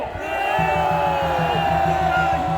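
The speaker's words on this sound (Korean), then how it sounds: "우리 윤석열 대통령에게 여러분 환호 한번 해주십시오" A large crowd at a patriotic street rally in Gwanghwamun roars and cheers steadily, a loud sustained mass of voices with rhythmic chanting pulses running underneath.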